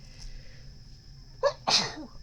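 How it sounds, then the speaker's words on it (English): A single sneeze close by: a short sharp intake followed by a loud explosive burst, over a quiet background with a steady faint whine. "I always sneeze when I'm down here."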